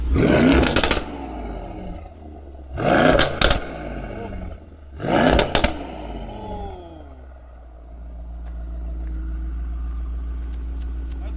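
A Mercedes E63s with a downpipe, intake and tuned software warming up: three loud, sharp revs with crackling falloffs spaced a few seconds apart, then a steady low idle rumble.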